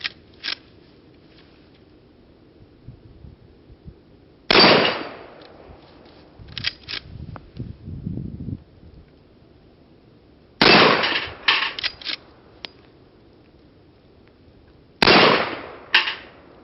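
Rossi Ranch Hand lever-action gun fired outdoors in the cold, three loud sharp shots spaced several seconds apart, each followed by metallic clatter from the lever cycling and faint rustling between.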